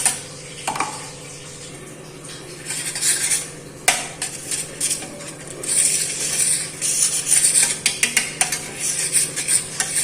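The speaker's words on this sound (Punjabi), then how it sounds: "ਇੱਕ ਪਲੇਟ ਲਾਵਾਂਗੇ ਉਸ ਉੱਪਰ ਥੋੜਾ ਜਿਹਾ ਘਿਓ ਲਾਵਾਂਗੇ" Ghee being spread on a plate with a utensil while making mango papad, a run of light scraping and metallic clinks and taps, close and steady with no talk.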